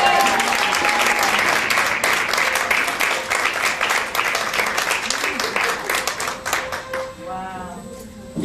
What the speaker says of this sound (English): Give Jesus a clap